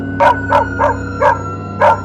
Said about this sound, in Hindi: तो कभी कुत्तों के भौंकने की आवाज